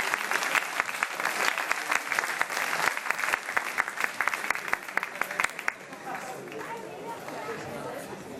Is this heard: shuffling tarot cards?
no